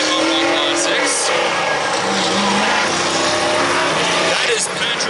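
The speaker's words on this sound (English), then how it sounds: "134 is Patty Lawrence driving a Ford Pinto Modified" A Ford Pinto Modified race car runs at Lake Doucette Motor Speedway, its loud, steady engine roar filling the track with continuous noise while an announcer talks over it.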